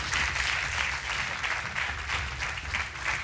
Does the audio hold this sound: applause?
yes